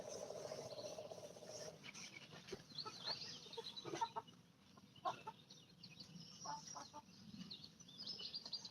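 Laying hens in backyard nesting boxes giving soft, scattered clucks and low murmuring calls, quiet and intermittent against a faint background.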